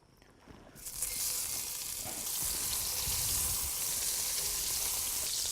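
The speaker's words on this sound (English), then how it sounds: "then we're gonna get it back into the cast iron pan and crisp those up" Cubes of pork belly hit hot oil in a cast iron pan and burst into a loud, steady sizzle that holds evenly after a short quiet start, with no talk over it.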